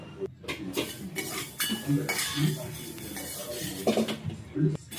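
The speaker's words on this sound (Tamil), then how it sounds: "இது வந்து இப்போ நம்ம வெந்தயம் கடுகு சேர்த்து நல்லா பொன்னிறமாக வறுத்துக்கலாம்." Metal spoon clinking and scraping in a pan as fenugreek and mustard seeds are dry-roasted for lemon pickle, with irregular close knocks and rattles throughout, no voices.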